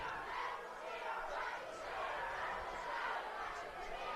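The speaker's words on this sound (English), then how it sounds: "fans starting to get a little louder." Ashland home crowd at a high school football game against Marshfield, a rising roar of cheering and shouting fans in the stands, broad and sustained, somewhat distant.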